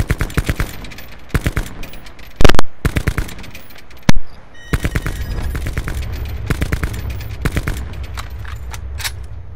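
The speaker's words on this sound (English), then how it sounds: "I eventually got this guy to start firing back at me" Rapid bursts of automatic gunfire trade back and forth in Call of Duty Black Ops 4 Blackout, with dense rattling volleys, a couple of heavier booming shots near the middle, and continuous firing to the end, with no talk.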